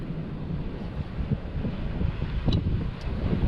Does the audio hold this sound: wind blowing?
yes